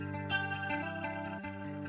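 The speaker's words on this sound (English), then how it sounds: "it's the rotary speaker that's actually associated to the guitar now" An electric guitar chord swirling through a rotary speaker effect on a Yamaha YC Series stage keyboard, its tone pulsing and warbling, played alone.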